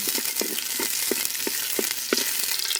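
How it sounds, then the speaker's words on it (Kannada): Onion frying in sunflower oil in a pan: a steady crackling sizzle runs throughout, with regular soft stirring scrapes about every third of a second and no voices. "ಈಗ ಮೊದಲಿಗೆ ಒಂದು ಈರುಳ್ಳಿ ಹಾಕಬೇಕು ಈರುಳ್ಳಿ ಫ್ರೈ ಆಗಬೇಕು ಸ್ವಲ್ಪ ಫ್ರೈ ಆಗಬೇಕು"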